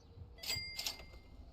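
A shop counter bell in the Mall Simulator video game, struck twice in quick succession with a bright metallic ring over a quiet background.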